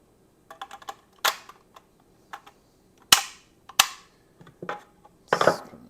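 A Mueller Pro vegetable chopper slammed down through a tomato, giving several sharp, loud plastic snaps and clacks close by, mixed with lighter clicks and taps in an uneven rhythm, no voices.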